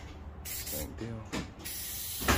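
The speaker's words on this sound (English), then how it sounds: "Spray my tester." Spray paint from a can applied in short hissing bursts during interior painting, close and moderately loud, with soft speech between the sprays.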